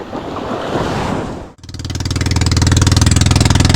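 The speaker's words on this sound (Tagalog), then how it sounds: "Yeah, alon." Rough sea waves wash and roar around a small wooden bangka struggling to land. The rushing surf cuts out abruptly and gives way to a loud, steady, rhythmically pulsing boat engine.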